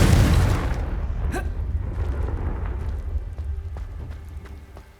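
Confringo blasting spell in Hogwarts Legacy: a heavy booming burst at the start that rumbles and fades over several seconds, with faint crackling debris afterward, loud and close.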